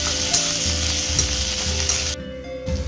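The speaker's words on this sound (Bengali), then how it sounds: "পেঁয়াজটা একটু ভাজা হয়ে গেলে দিয়ে দেওয়া হচ্ছে আদা বাটা। এরপরে যাচ্ছে হচ্ছে রসুন বাটা। এবার একটু নাড়িয়ে নিতে হবে।" Sliced onion with ginger and garlic paste sizzles loudly and steadily in a hot kadai for bajra khichuri, with scraping stirring strokes and small crackles and no one talking.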